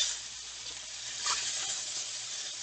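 Browned cube steaks sizzle in a skillet, giving a steady broadband hiss with faint crackles that swell slightly midway, close and moderately quiet, with no talking.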